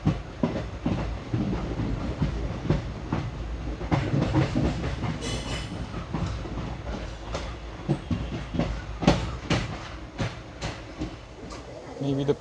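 The 16512 Kannur Bengaluru Express rolls slowly onto a loop line, its carriages rumbling steadily close by while wheels clatter over rail joints in irregular clicks and thumps, with a brief hiss partway through.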